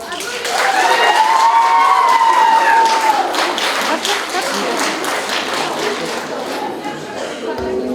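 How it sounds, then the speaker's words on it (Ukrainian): Audience applause and cheering at a beauty contest held in a Kyrgyz women's prison. A loud burst of clapping opens with a high whistle-like tone over it, then eases to steady crowd clapping. "Аплодисменты."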